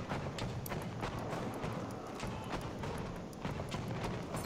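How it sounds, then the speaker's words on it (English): A horse galloping with a rider in the video game Battlefield 1, rapid rhythmic hoofbeats over a busy, noisy battlefield background. "We got a horse rider also"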